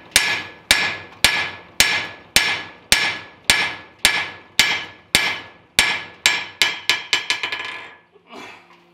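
A hammer peens welds on an anvil, striking about fifteen sharp, ringing metallic blows at a steady pace. The blows come faster and lighter toward the end, then a brief clatter follows.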